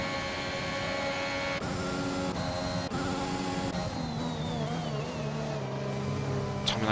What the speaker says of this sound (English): Really pushing that engine by the sounds like